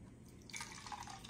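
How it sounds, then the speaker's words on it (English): Lemon juice is poured into a cup in a soft, faint trickle with light dripping for about a second, and no voices are heard. "let's pour it in our cup and see how many more lemons we're going to need"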